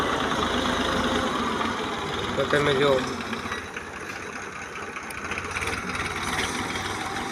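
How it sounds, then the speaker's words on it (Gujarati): An old Saurashtra 735 tractor engine idles with a steady low, throbbing drone throughout, close and continuous, while someone speaks briefly over it. "આ આપણે ટ્રેક્ટર છે સૌરાષ્ટ્ર 735 જૂનું મોડલ છે."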